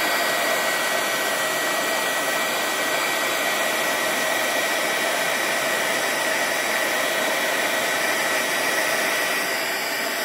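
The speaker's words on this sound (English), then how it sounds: "get it nice and warm first, and then we will heat and emboss it" A heat gun blows steadily for the whole stretch as it warms embossing powder on a stamped card, a loud, even, unbroken whoosh of hot air.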